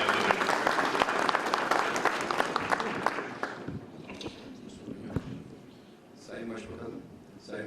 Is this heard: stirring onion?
no